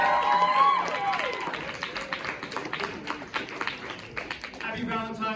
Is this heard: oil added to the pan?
no